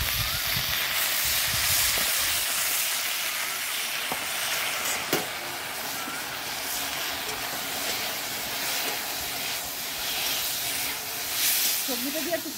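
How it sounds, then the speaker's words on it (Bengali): Fried vegetables and potatoes sauté in a pan for Bengali bata fish curry, producing a continuous close hiss and sizzle that swells and fades slightly as they are stirred. "সবজিটা দিয়ে একটু ভালো করে কষিয়ে নেব,"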